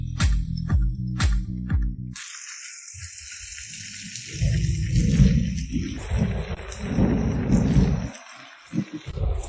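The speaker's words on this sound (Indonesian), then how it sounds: "Wah, beneran hujan." Heavy rain with rumbling thunder in a village orange orchard, a dense wash of downpour rising after a few sharp tones at the start, loud and close with no talking.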